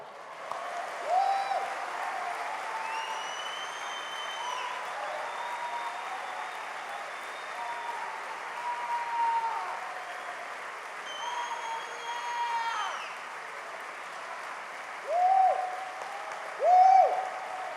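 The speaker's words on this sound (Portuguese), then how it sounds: "aplauda o Senhor" A church congregation applauds during a worship service, a sustained wash of clapping at moderate distance, swelling in bursts near the end, with a preacher's voice speaking over it.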